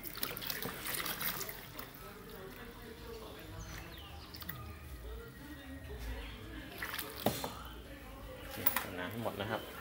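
Leftover water drains from the tank of an ITC 170W water pump, a faint trickle and drip heard under someone speaking nearby.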